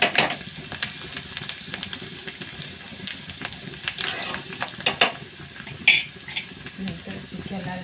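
Garlic and asafoetida tempering sizzling in oil, a close crackling fry with sharp metallic spoon clinks against the pan and a few bursts of spattering.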